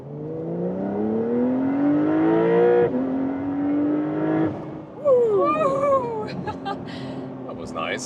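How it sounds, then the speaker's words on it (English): A Porsche 911 Carrera S in sport mode, rear-wheel drive, accelerates hard onto a freeway, its engine rising steadily through gears with sharp shift breaks, loud from inside the cabin, while voices chatter and laugh toward the end. "beautiful acceleration from the rear-wheel drive model"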